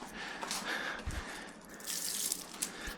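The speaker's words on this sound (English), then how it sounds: "pour a bit of water out." Water poured out of a container splashes and trickles faintly for a few seconds, with small drips and gurgles, quiet and close with no talking.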